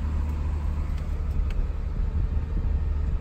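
Salvage car at a Copart auction yard, listed as run and drive, its engine idling smoothly with a steady low rumble that stays constant throughout, close by with no talk.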